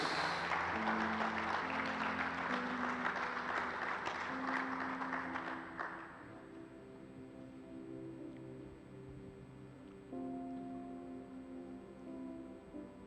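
A church congregation applauds during a morning service, a dense roar of clapping for about six seconds that then fades out, leaving quiet room tone with a faint sustained tone underneath.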